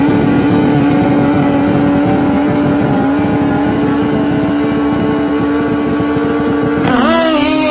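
A nitrous-fed Kawasaki ZX-14 drag-racing motorcycle holds a loud, steady, close engine drone on the line, then its pitch surges sharply as it launches near the end.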